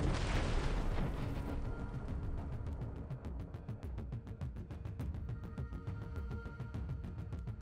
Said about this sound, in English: Footage of the artillery of the 3rd Combined Arms Army of the Southern Troops destroying the temporary deployment point of fighters of the Armed Forces of Ukraine